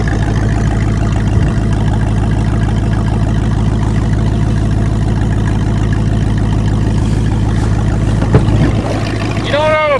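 A quad ATV engine runs steadily on a farm, a continuous mid-pitched motor drone through the whole stretch with a higher whine rising near the end, heard alone without talk.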